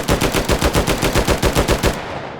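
Sustained full-auto burst from a gun in the H3VR virtual reality shooter, a steady run of about fifteen evenly spaced, loud shots at a fairly slow cyclic rate, ending with a brief fading tail.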